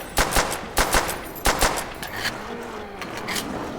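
Gunfire in Call of Duty Nazi Zombies: a string of sharp, close shots in irregular bursts, some rapid, over faint game background noise.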